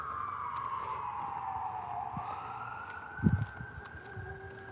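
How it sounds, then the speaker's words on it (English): A police siren wails in the distance, its pitch sliding slowly down then holding steady, with faint background rumble and a brief thump. "You can hear all the sirens going off"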